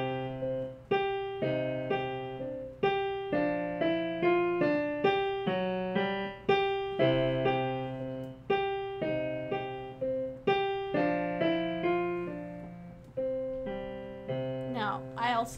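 Piano plays the simple beginner piece The Old Grey Owl with both hands together, a steady melody over bass notes with clear repeated attacks, near and moderately loud, no talking.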